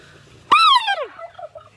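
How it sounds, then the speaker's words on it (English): A single loud turkey gobble bursts out close by in a chicken coop, a quick warbling call that trails off into softer clucks and chatter from the flock. "Ben wants to know if you can make the turkeys gobble for him"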